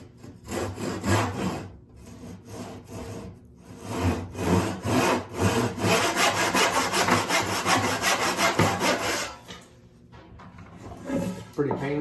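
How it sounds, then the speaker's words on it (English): Hand saw cutting down to a marked line on a wooden board during a hand-tool pole lathe build, steady rhythmic rasping back-and-forth strokes, close and loud, briefly pausing near the end. "All right, so we're just sawing down to our line."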